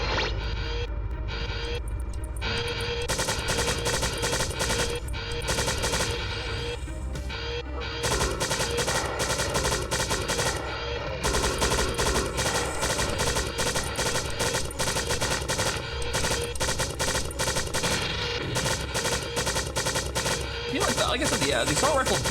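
An assault rifle in the video game Strife fires in long, steady automatic bursts of rapid, crackling shots that run almost without pause over a dense game soundscape.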